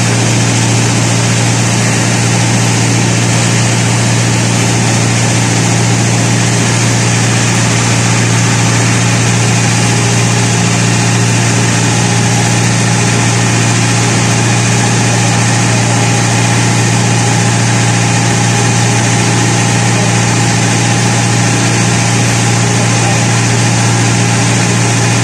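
A boat engine cruising across industrial Itaya Bay near Iquitos, heard as a loud, steady, unbroken drone and hum that holds for the whole stretch with no voices.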